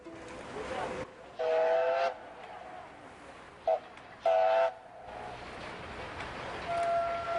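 A passing train on a railway sounds its whistle in several loud, harmonic blasts, one long, one brief and another long, over rumbling rail noise and hiss.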